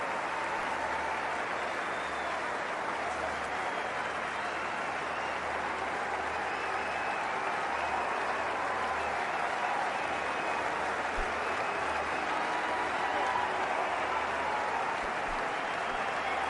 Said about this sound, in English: Great ovation from the Indian crowd.